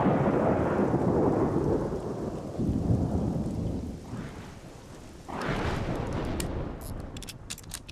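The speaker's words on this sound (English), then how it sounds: "Ooh, lovely bit of rain." Rain and thunder in the video game Xenoblade Chronicles 2, steady heavy rainfall under deep rolling thunder that swells and fades, with a sharper crack partway through and no talking.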